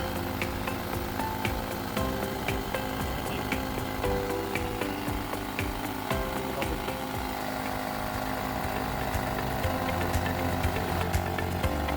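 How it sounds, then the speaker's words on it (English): A portable 12V tire inflator compressor hooked to a car tire's valve stem runs loudly and continuously, a dense rattling mechanical drone that holds steady for the whole stretch. "We'll put it onto the valve stem here and press the button to start inflating."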